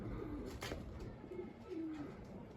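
Homing pigeons on a loft roof give soft, low cooing calls, a few short coos standing out over a rustling outdoor background with no talk.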